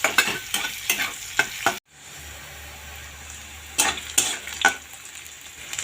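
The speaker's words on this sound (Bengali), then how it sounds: "পেঁয়াজটা লাল করে ভেজে নেব" Onions fry in a pan with a steady sizzle while a spatula scrapes and taps rhythmically; a brief cut of near-silence interrupts before the stirring resumes.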